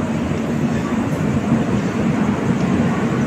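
The Sealdah–New Jalpaiguri Road Humsafar Express on its first commercial run gives a steady, loud rumble and rattle of rolling wheels and carriages, continuous throughout with no talk.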